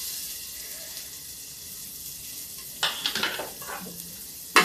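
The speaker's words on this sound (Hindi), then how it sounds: "प्याज थोड़ा सा भून जाता है ये देखिए" Chopped onion goes into a hot pan with cloves for a radish and sweet corn lunch dish, a sudden burst of sizzling and stirring clatter after a quiet stretch of low background hiss.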